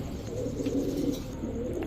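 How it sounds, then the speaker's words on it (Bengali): A green-neck Hungarian high flyer Budapest female pigeon coos steadily, a low continuous murmur close by with faint background noise. "গ্রিন নেক হাঙ্গেরিয়ান হাই ফ্লায়ার বুদাপেস্ট একটা মাদি কবুতর"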